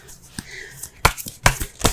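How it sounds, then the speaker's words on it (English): Tarot cards are shuffled by hand nearby, giving several sharp papery riffles and slaps in quick irregular bursts, with faint talking in the background. "let's go ahead and pull some cards here."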